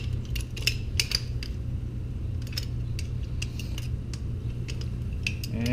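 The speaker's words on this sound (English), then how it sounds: "go ahead and just tighten these back up" Wrench clicks while tightening bike wheel bolts on aluminum: sharp metallic ratcheting ticks in irregular bursts over a steady low hum, close and clear.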